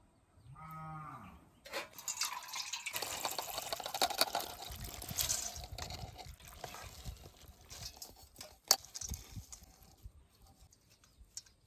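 Water drains from soaked rice for Bengali basanti pulao. After a brief tonal call at the start, it splashes and pours steadily and close by for about ten seconds, with no talk.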